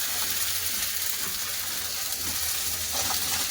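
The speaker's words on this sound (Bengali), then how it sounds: "আদাটা ভেজে নিয়েছে" Ginger frying in oil in a village kitchen, a steady close sizzle and crackle running throughout with no pauses.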